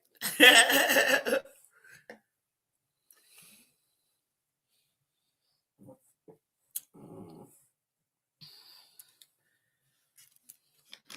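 A dog growls indoors at home in one loud, rough burst lasting just over a second, followed by near silence with a few faint scattered knocks and rustles.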